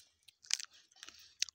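Someone bites into a sour fruit in a village house, then chews it: a few sharp, close, crunchy bites followed by softer wet chewing in a quiet room.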